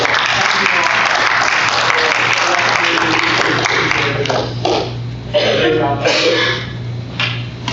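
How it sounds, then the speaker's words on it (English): Audience applause fills the room at a county board of education special called meeting, steady and loud at first, then thinning into scattered claps as voices and coughs come through. "I think we ought to give our folks in the room a well-deserved round of applause."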